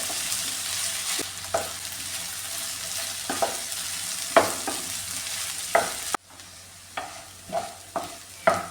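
Chinese potatoes (koorkka) frying in a pan for mezhukkupuratti, with a steady sizzle broken by repeated spatula scrapes and stirs, close and alone with no voices.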